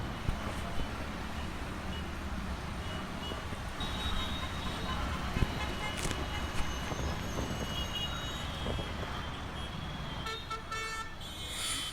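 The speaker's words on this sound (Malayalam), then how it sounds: "നല്ല തിരക്കുള്ള വാഹനങ്ങളൊക്കെ ഒരുപാട് പാസ് ചെയ്യുന്നുണ്ട്" A busy city street with a steady roar of passing vehicles, occasional horn toots and a few sharp knocks nearby, running continuously for the whole stretch.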